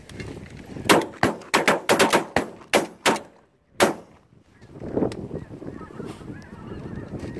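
A quick volley of loud, sharp shotgun blasts, about ten in a few seconds, rings out during a speckled goose hunt, with geese honking between and after the shots.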